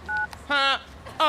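A telephone being dialed to call a taxi, with a short series of distinct beeping touch-tones in quick succession, each clear and fairly close, and no talk over them.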